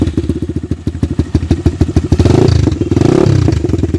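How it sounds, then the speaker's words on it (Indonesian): A 2019 Viar Cross X 200 ES motorcycle on its standard exhaust idles with a rapid, thumping single-cylinder beat, close and loud, then revs up into a rising roar before easing back. "Bagi kalian yang penasaran sama suara knalpotnya, knalpot standar dari VR itu sendiri bisa langsung dengar sendiri."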